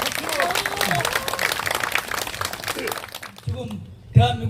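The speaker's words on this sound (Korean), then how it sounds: "여러분 방공청년단으로 해서 박수 한번 주십시오." An audience at a memorial ceremony for fallen anti-communist youth movement members claps steadily while a voice carries on over it, with the applause thinning out toward the end.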